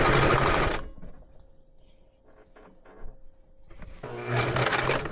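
A home sewing machine with its thread slipped from the guide and tangling runs in a loud whirring burst, goes quiet with faint clicks and handling noises, then starts whirring again.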